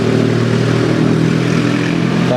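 Gasoline vehicles rumble past in the background near an electric car at a DC fast charger, a steady loud engine drone with clattering mid-range tones and no pauses.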